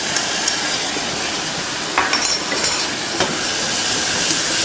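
Green chili paste fries in a pan while cooking bread corn upma. It makes a steady, close sizzling hiss throughout, with a few small crackles and stirring scrapes.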